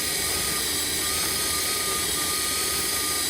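A drill drives the Torque Jack Apex gearset for dual jack setups in third gear, giving a loud, steady, close whining drone of motor and gears with no pauses.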